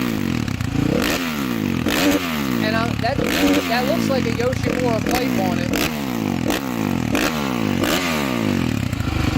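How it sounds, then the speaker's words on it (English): A Camden 750 four-stroke enduro dirt bike engine revs repeatedly in sharp, rhythmic bursts, loud and close, while someone talks over it. "it sounds great. Right. Like a four-stroke engine."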